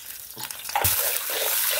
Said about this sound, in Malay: Kita kacau-kacau sebentar.